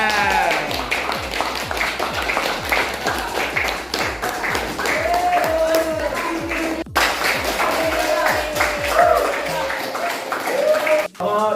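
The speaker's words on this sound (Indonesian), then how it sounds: "Tepuk tangan." A class at an aviation vocational school claps after a hydraulic systems presentation, the hand claps falling in a quick, loose rhythm that is distinct at first and later mixes with voices and cheering.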